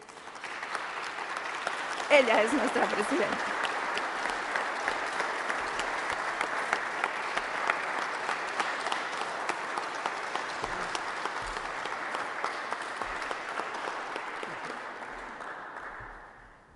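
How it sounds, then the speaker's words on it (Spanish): An audience at a reception in the Basque government headquarters for a delegation of Guaraní women gives long, sustained applause, an even wash of clapping lasting over fifteen seconds, with a brief voice near the start. "Yo quiero pedir un aplauso"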